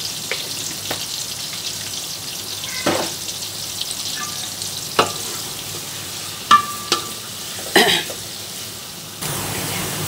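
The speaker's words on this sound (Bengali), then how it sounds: "এখন আমি দিয়ে দিচ্ছি দারচিনি" Onions fry in a pan with a broad, steady sizzle as cinnamon is dropped in for a Khulna-style Eid beef curry with chui jhal, broken by several sharp clinks and scrapes of a spoon against the pan.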